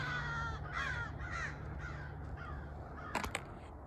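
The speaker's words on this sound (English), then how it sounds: "Some crows up there." Several crows caw repeatedly at a distance while hiking in hills, harsh calls in a loose series over a steady low background hum, fairly faint.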